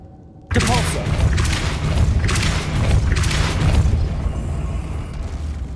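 A Depulso force spell cast in Hogwarts Legacy, heard as a sudden loud booming burst followed by a sustained rumbling blast that slowly fades.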